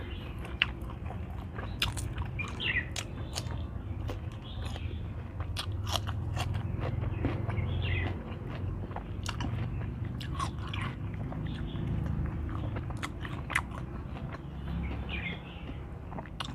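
Someone eating a boiled pork salad with lime, chewing close to the mic: steady soft crunching and wet mastication over a continuous low background, with faint bird chirps.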